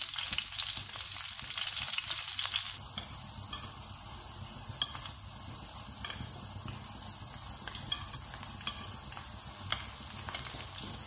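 Garlic and parsley stems frying in oil in a pan over medium heat, a steady soft sizzle, with a louder, brighter crackle at the start that settles into gentle continuous bubbling and occasional small pops.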